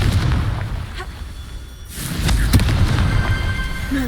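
A Confringo blasting spell detonates in the Hogwarts Legacy video game, a loud booming burst after a quieter rumbling lead-in, with crackling debris and sharp pops trailing behind.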